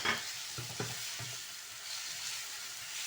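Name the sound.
tomatoes added to sizzling pan with ginger garlic paste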